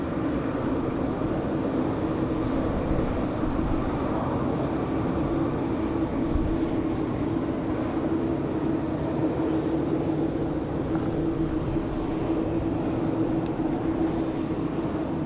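A Cessna Citation Latitude business jet lands on runway 23 left at Raleigh-Durham, producing a continuous low, distant rumble with a steady droning hum and no clear speech.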